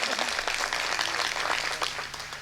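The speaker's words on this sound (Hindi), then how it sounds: "ताली बजाइए, एनर्जी मिलती है" An audience at a Hindi comic poetry gathering (hasya kavi sammelan) claps in a dense, steady burst that stays fairly even, slightly distant, for a couple of seconds.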